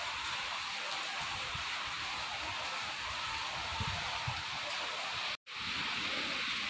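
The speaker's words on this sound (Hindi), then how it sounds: "खूब तेज बारिश हो रही है" Steady heavy rainfall forms a thick, even wash of noise that holds constant, broken only by a momentary dropout near the end.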